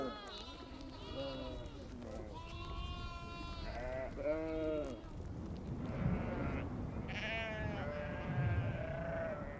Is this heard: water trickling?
no